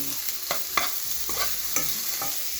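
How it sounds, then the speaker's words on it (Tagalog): Garlic, ginger and tomato sauté in a pan for a sinigang of mussels and fish: a constant close sizzle with spaced stirring clacks of a utensil, no talking. "So, nagigisa tayo ng bawang, luya, yan."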